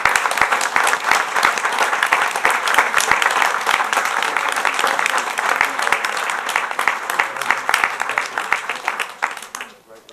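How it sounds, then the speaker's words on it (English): A round of applause for honorees at an evening legislative meeting, steady dense clapping from a sizable room lasting about ten seconds before tapering off at the end. "I would ask another round of applause for all of our honorees for this evening's program."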